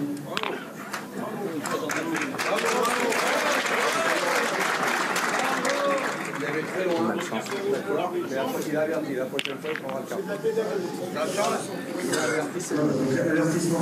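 Spectators at a pétanque Masters semi-final in Montluçon applaud in a dense, steady round of clapping that lasts the whole stretch, with a commentator talking over it and scattered crowd chatter.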